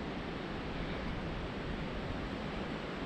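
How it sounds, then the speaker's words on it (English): Wind blowing across a hilltop on Mt Victoria in Wellington, a steady, even rush buffeting the microphone, quiet but constant with no voices. "So peaceful and windy up here."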